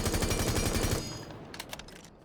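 Rapid automatic fire from a muzzle-equipped gun in Rainbow Six Siege rattles out in a dense, loud burst for about a second, then stops, leaving a few scattered faint shots and echoes.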